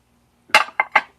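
Soup dishes are picked up and knock together in three quick close clinks, sharp and bright against an otherwise quiet room.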